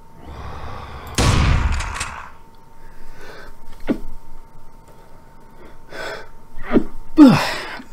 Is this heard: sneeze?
yes